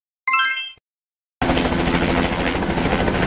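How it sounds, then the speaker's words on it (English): A steady, loud TV news helicopter rotor drone with a rapid chopping pulse, starting abruptly after a brief high whistle-like tone. "The TV news helicopter is an aircraft used by media companies for aerial news coverage"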